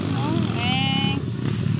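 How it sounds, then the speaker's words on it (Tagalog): Racing motorcycles at a drag race, their engines whining and rising in pitch as they pass, loud and close, with a voice talking over them and crowd noise around. "Nindot na yung mga motor."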